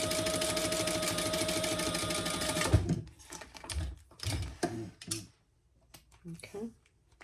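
A sewing machine stitches fabric with a steady, close mechanical whir for about three seconds, then stops as a person talks in the quiet that follows.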